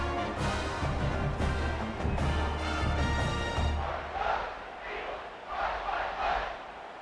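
In the American football video game CFB 26, a stadium crowd roars and chants loudly in rhythmic waves, the sound thinning into scattered cheering and crowd noise toward the end.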